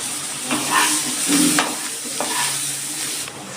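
Eggplant pieces frying in a pan with onions browned in oil and turmeric, a steady close sizzle with stirring scrapes throughout, no voices.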